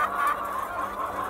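Chickens cluck in a huge, crowded egg farm, a dense mass of overlapping hen calls and squawks that continues steadily throughout.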